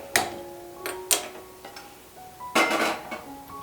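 A metal cooking pot is picked up and set down in a home kitchen before lemon tea is made, giving a few sharp, ringing clanks and taps at irregular intervals, close and fairly quiet.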